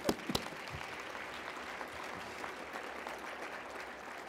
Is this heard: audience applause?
yes